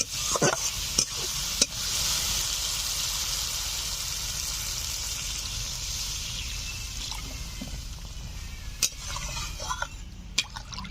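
Fish kalia gravy with fried katla fish pieces and fried potatoes bubbles and sizzles steadily in a pan, with a few sharp clinks and scrapes of a spoon stirring, close and continuous.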